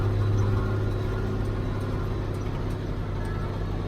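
A truck engine cruising in fifth gear gives a steady, close, loud drone with a low rumble that barely changes from start to finish.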